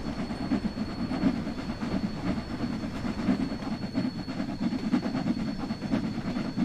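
A train in Train Sim World 3 rolls along the rails, with a steady rumble and rhythmic clickety-clack of wheels over track joints repeating evenly throughout, plus a faint constant whine above.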